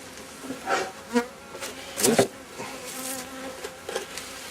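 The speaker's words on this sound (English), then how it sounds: "These bees go to this hive" Honeybees drone at close range around an open hive on the first inspection of the year, a low buzzing hum broken by short louder swells and a few soft clicks.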